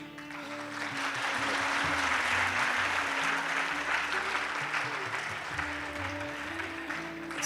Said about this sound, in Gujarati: સરસ તાળી પડી.